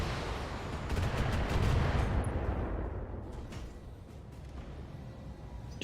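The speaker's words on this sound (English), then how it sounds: "Shoot some short range missiles at me?" Mechs in the BattleTech video game fire a volley of short range missiles, a loud rumbling barrage of blasts that swells then slowly fades into a lingering low roar, no talking.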